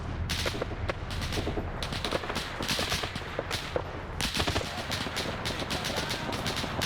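Combat on Raate Road in a video game: dense, rapid gunfire and heavy weapon bursts crackle without pause, loud and continuous, with no voices over it.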